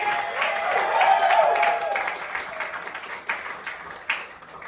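Audience applause and clapping at a comedy show, a dense burst of claps that swells early and then thins into scattered, tapering claps with a few louder individual hits toward the end.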